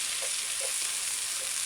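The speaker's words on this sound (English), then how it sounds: "and low, just frying" Soy mince fries gently on low heat in a pan, giving a steady soft hiss and crackle with a few faint stirring scrapes, alone and fairly quiet.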